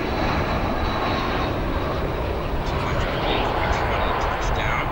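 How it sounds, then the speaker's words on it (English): American Airlines Boeing 787 taxiing at O'Hare International Airport, a steady broadband jet engine roar that stays loud and even throughout with no break, the rumble filling the whole space at close range. "Now we'll follow this American Airlines 787 as it is taxiing."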